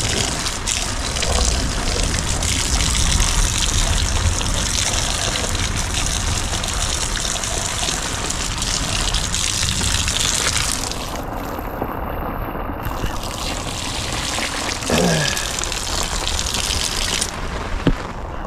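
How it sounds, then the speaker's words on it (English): Water overflows from a full tank at an off-grid village home in Africa, a steady, continuous gushing and splashing that stays close and fairly loud for the whole stretch. "right now the tank is full, so the water is just flowing"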